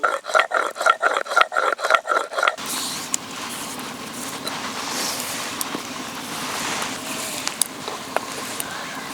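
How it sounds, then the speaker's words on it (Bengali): Whole garam masala ground by hand on a traditional shil grinding stone, with a steady run of rhythmic rasping strokes that gives way to a softer, continuous scraping rub close by. "আজকে শিলে একটু গোটা গরম মশলা বেটে দেবো"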